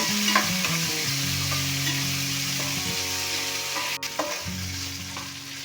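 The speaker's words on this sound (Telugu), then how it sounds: "చూసారుగా ఉల్లిపాయలు బాగా ఫ్రై అవుతున్నాయి." Onions with ginger garlic paste fry in a pan, a steady close sizzle with scraping stirs and clinks of a spoon against metal, no voices.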